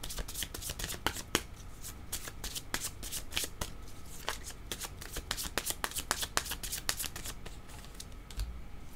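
Tarot cards are shuffled in a quick, crisp run of riffling flicks and slaps, close up and fairly quiet, with no talking.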